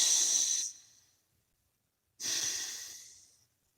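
Two deep breaths during a meditation: a long hissing exhale, a stretch of silence, then a second close, airy breath.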